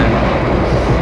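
Inside the executive-class cabin of the Singasari passenger train, a loud, steady rumble of running noise fills the space with no clear voice over it.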